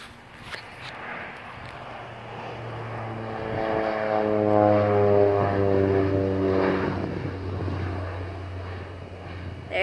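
A propeller crop duster airplane flies past, its engine drone swelling from faint to loud as it nears, then easing off, with steady harmonic buzz outdoors.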